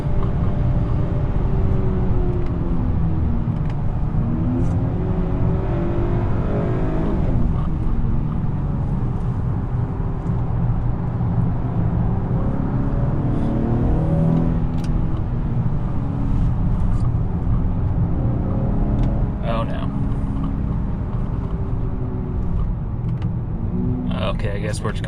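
A 2021 Honda Accord 2.0T Sport heard from inside while driving: a steady, loud low engine and road rumble, with brief changes in tone where the transmission shifts.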